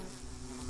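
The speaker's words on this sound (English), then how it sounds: "Where'd the bees come from?" Bees buzzing in a multiplayer video game, a steady close insect drone with a low hum running through the whole brief moment, no talk.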